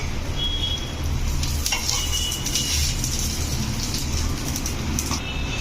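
Crispy wheat tacos frying in a pan and being flipped: a steady, close, rain-like sizzle of hot oil runs throughout, with a few light clatters as the pieces are turned.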